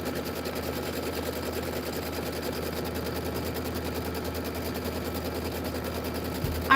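An embroidery sewing machine stitches out placement lines on fabric, a steady, fast, even mechanical chatter running continuously at moderate level.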